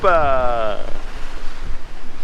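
Ocean waves surge around a sailboat crossing the Atlantic, a steady wash of water and wind noise against the microphone, with a person's voice heard briefly at the start.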